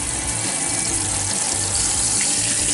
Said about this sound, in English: just take the water and wash all around